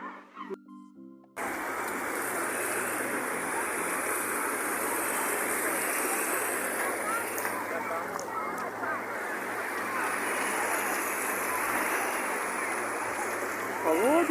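Cold Baltic Sea surf washing steadily onto the shallow beach at Kołobrzeg, a broad continuous roar of breaking waves close by, with a low engine-like hum underneath and a brief quieter start before the wash swells in.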